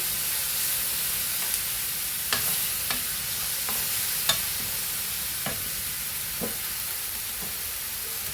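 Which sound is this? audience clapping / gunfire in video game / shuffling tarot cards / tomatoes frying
tomatoes frying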